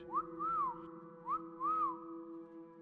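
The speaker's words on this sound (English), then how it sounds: "When the whistle came a third time, Caleb peered out into the darkness and retu" A person whistles a signal at night in the brush, two rising-and-falling calls, each a short upward slide followed by a longer arched note. They ring out clearly over a low steady hum.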